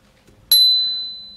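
A single strike of a hand bell at a transport forum in Whitehorse, marking one minute left; a crisp, close ding with a pure ringing tone that decays slowly.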